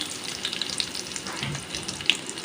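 Finely chopped garlic and cumin seeds go into hot oil in a pan, giving a close, steady crackling sizzle with small pops and an occasional louder spit.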